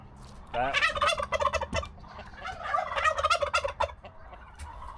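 Several turkeys gobble in loud overlapping rattling bursts, two main volleys close by with short gaps between them.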